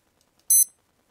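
A single short, bright electronic beep sounds when a button is clicked in a Godot game project, sharp and isolated against silence.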